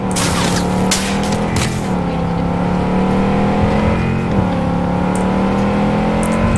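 A car in the video game Cyberpunk 2077 drives along with a loud, steady engine roar and rumble, the pitch shifting slightly as it moves, with a few sharp bangs near the start and no talking.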